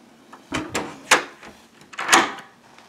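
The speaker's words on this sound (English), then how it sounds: "This is a connecting room door" A hotel connecting room door is handled nearby: a few soft clunks and a latch click, spaced unevenly over a couple of seconds.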